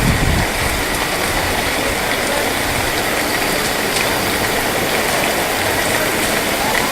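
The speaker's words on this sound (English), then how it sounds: "The rain came down" Heavy rain pours down steadily in Cape Verde, a dense, loud, continuous hiss of water with no voices, sustained at an even level throughout.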